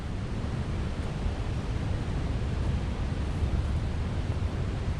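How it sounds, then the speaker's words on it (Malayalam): A dense, steady roar of Athirappilly Waterfall fills the air without pause, broad and loud like a torrent pouring close by. "അത്രയ്ക്ക് സൗണ്ടാണ് ഇവിടെ. വെള്ളം ഇങ്ങനെ എരച്ചിറങ്ങും."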